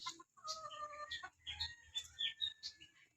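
Hen clucking inside a chicken coop built for fighting roosters, shut in after laying an egg, with short close calls and chirps coming in bursts against a quiet background.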